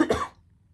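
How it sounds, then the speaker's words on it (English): A single short cough, close and fairly loud, with quiet background hum after it. "sorry, I just coughed."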